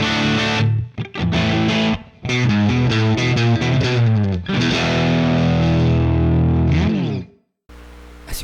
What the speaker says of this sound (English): the tone coming out from this guitar is quite dark